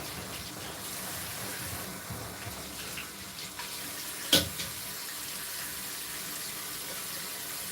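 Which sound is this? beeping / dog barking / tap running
tap running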